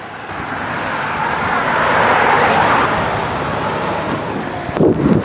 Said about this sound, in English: This truck just turned around too